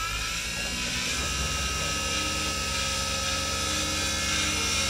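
A DIY CNC vertical milling machine runs a job with its spindle at 5,000 RPM, cutting air before it cuts steel. It gives a loud, steady mechanical whine with layered tonal hum that holds constant throughout.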